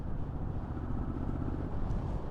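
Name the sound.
Triumph Street Scrambler 2021 motorcycle engine after shifting to fifth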